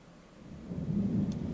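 Rain and a low rumble of thunder in the video game Five Nights at Freddy's Plus, a steady wash of rainfall swelling as a deep roll builds over about a second and a half.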